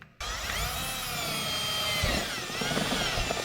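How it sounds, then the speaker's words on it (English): A power drill bores holes during power steering work on a 1999 Mazda Miata, giving a loud, steady motor whine that runs nearly unbroken after a brief quiet start, with no one talking. "So, drill some more holes."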